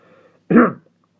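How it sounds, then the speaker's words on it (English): One short, gruff throat clearing, close and fairly loud, in an otherwise quiet moment. "I gotta clear my throat one more time"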